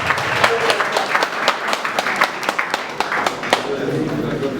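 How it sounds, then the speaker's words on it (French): Applause at a civil wedding ceremony for a couple at the town hall: a small crowd claps steadily, close and lively, with distinct individual claps and voices mixed in throughout. "Applaudissements."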